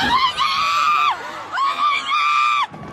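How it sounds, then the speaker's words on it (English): Spectators on a holiday parade route in Waukesha screaming after an SUV drove through the crowd, loud high-pitched panicked shrieks in repeated overlapping bursts, close and intense. "The SUV flew past spectators on the parade route, and then the screams began."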